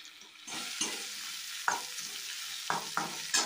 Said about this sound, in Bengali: তো আমার এখানে আলু আর শিমটা মোটামুটি ভাজা হয়ে গেছে